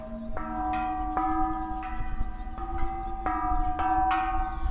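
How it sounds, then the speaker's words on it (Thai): Several clear hand strikes on a Thai temple bell, about one every half second or so, each ringing with a bright metallic tone that lingers, close by. "ใช้มือเคาะดังเฉย"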